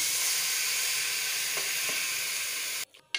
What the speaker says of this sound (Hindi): अब हम इसमें डालेंगे मैरिनेट किया हुआ चिकन